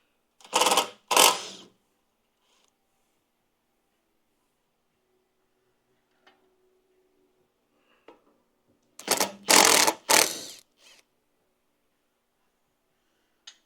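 A 9/16 socket works rusty bolts loose on a Kohler engine, giving two short bursts of ratcheting clicks, one near the start and one near the end, separated by near silence.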